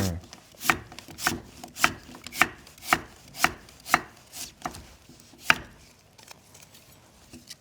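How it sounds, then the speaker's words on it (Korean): A kitchen knife slices daikon radish into thick pieces on a cutting board, about a dozen crisp, evenly spaced chops close by with short pauses, then a few scattered softer cuts, with no talking. "이제 무만 조금 두툼하게 썰어주도록 하겠습니다"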